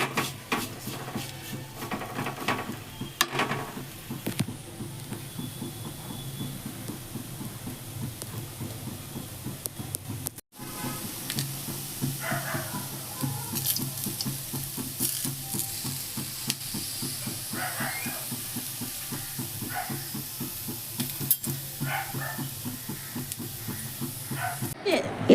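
Prawns fry in a pan with a steady hiss and sizzle, broken by scraping stirs and clinks of a utensil, close by and continuous, with a voice speaking now and then over it.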